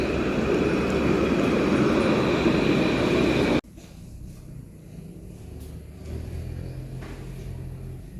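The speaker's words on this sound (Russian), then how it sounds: "По этой улице ходят классные трамвайчики, вот такие вот." A tram passes along a city street in France, a loud, steady rolling rumble that cuts off abruptly partway through. Quieter street ambience follows, with faint traffic noise.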